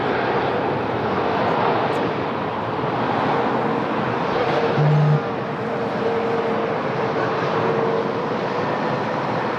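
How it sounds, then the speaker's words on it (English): A Ryanair Boeing 737 roars at Lisbon Airport, a loud, steady jet rumble with a broad hiss that holds for the whole stretch, with a brief low tone rising midway. "That's a 737 Ryanair."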